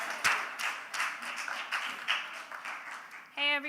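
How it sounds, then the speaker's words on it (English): Round of applause at a youth huddle gathering: dense, moderately faint clapping from a group, continuing steadily with a brief voice-like tone near the end. "Y'all can give her a round of applause."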